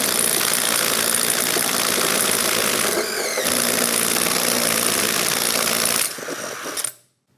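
A DeWalt impact driver spins a 2.5-inch hole saw through material with a steady, loud, dense mechanical grind that dips briefly near three seconds, then tapers off and stops just before the end.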